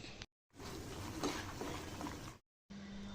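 Ghee tempering with asafoetida sizzles in a pan while prasadam is prepared, a steady soft crackle with faint stirring scrapes, broken by brief silent cuts at the start and near the end.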